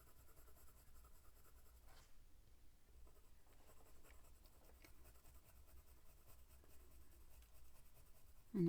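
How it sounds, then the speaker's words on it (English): Graphite pencil shading on paper with the side of the lead in round circular strokes, layered for a ladybird drawing; a faint, steady soft scratching runs throughout, close and quiet, with a brief louder bump at the very end. "And I'm just using that side of my pencil."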